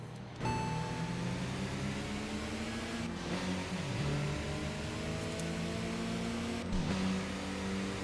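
A Suzuki Cappuccino in the Tokyo Xtreme Racer racing game, its small engine droning and revving in rising and falling sweeps through gear changes, fairly quiet and continuous with no talk.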